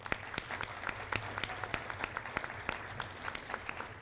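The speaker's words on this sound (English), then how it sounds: "let's give a final congratulatory round of applause for the School of Global Studies graduating class" An audience applauds the fall 2018 graduating class of the School of Global Studies and Partnerships at a hooding ceremony, a steady, fairly distant patter of many hands clapping without letup.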